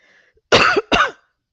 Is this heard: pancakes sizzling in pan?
no